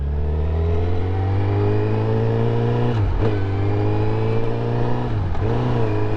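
Honda CBR1000RR sport motorcycle engine revving and accelerating on the road, a loud close mid-pitched drone that rises steadily, with two brief dips as gears shift.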